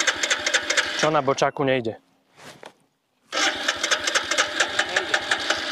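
A motorcycle engine runs with a loud, busy mechanical rattle while someone speaks briefly over it. The sound drops to near silence, then the engine starts again and settles into a steady, loud idle.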